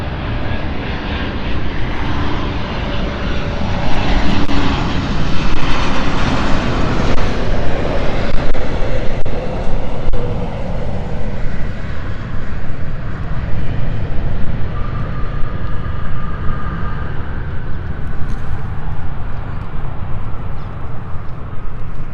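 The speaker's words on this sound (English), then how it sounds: "This is BA 8755 from Belfast, Embraer 190 SR." A British Airways Embraer 190 SR airliner from Belfast at London City Airport roars past with a loud, sustained broadband jet rumble that builds, holds steady and slowly eases, heard alone without talk.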